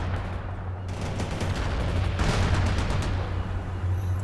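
Dense machine gun fire and explosions fill a World in Conflict battle scene, a continuous rattling barrage with heavier booms rolling underneath.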